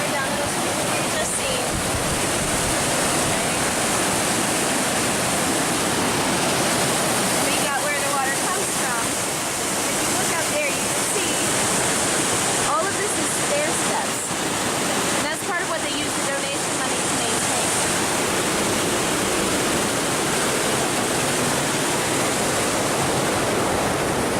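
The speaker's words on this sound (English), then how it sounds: "You've got the water flowing down here." Water pours steadily at Helen Hunt Falls, a continuous close roar of falling and flowing water that covers everything for the whole stretch, with faint talk now and then beneath it.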